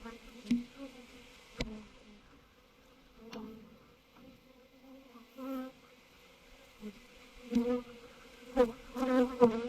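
Honey bees buzz around a hive during a swarm rescue, a steady close hum with louder swells and brief sharp knocks scattered throughout.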